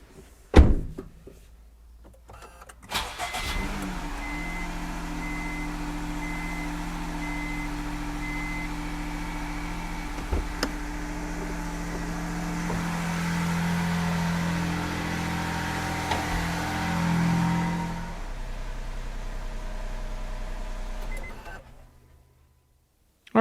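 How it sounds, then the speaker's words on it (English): Honda N-Box Custom idling as it warms up, a steady low engine hum with a faint whine, starting after a door thunk near the beginning and running evenly before cutting off. "So I'm going to start by warming up the engine."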